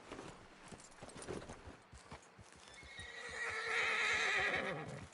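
A horse in Red Dead Redemption 2 on PS4 makes rhythmic clip-clopping hoofbeats up close, then lets out a loud, drawn-out whinny toward the end.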